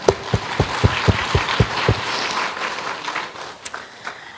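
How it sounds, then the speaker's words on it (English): Audience applause at a gala evening, a run of distinct sharp claps at first that thin out into a softer, scattered patter and fade away. "So I'd like to give them another round of applause"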